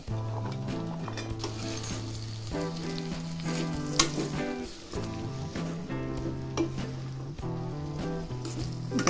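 Potato and brinjal fry in hot oil for a traditional Bhogi mixed vegetable bhaji, giving a steady sizzle under prominent melodic background music, with no voices.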